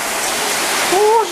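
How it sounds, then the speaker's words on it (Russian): Heavy hail falls during a storm in Spain, a dense, steady roar of pelting ice, with a brief voice rising near the end. "У нас град пошел. Такой сильный."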